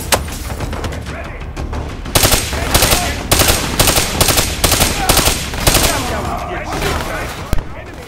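Rapid automatic gunfire in the Call of Duty Black Ops 3 campaign rattles in repeated loud bursts, broken by short pauses, with dense battle noise and occasional voices beneath.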